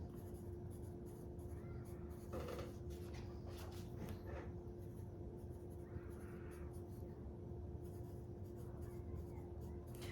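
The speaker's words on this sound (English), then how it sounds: "I always write in my meal plan with a pencil" Pencil scratching across a paper meal-plan sheet, steady continuous writing strokes close by over a constant low background hum, with no talking.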